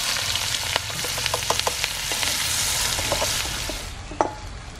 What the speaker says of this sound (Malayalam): ഇനി ഈ എണ്ണയിലേക്ക് ഒരു കപ്പ് ചെറിയുള്ളി ഇട്ട് കൊടുക്കാം